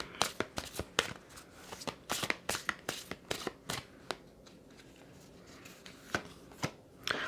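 A tarot deck shuffled by hand for a reading, with rapid crisp card snaps in quick bursts, a quieter pause, then a few more slaps, close and without talk.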